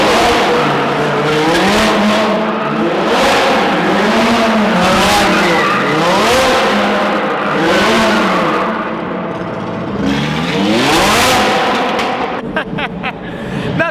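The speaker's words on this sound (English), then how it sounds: "he likes to do, you know, those acrobatic donuts" An Audi R8 doing donuts, its tires skidding and squealing in long wavering sweeps while the engine revs, loud and close, repeating in cycles for the whole stretch.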